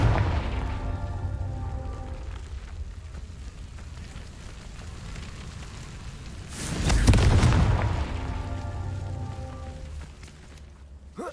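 A Confringo spell blast in Hogwarts Legacy erupts as a loud, rumbling explosion midway through, over steady rain-like game ambience and faint music.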